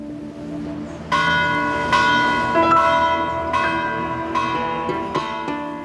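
A monastery church bell, rung by a bell ringer pulling a rope from the old choir loft, tolls in repeated loud strikes roughly every second, each stroke ringing on with long overlapping resonance.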